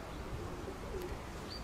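A female pigeon from a fancier's flock gives a brief, soft, low cooing, faint and close against a steady outdoor background hiss.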